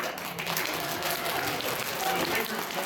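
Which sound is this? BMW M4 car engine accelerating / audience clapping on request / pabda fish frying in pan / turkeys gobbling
audience clapping on request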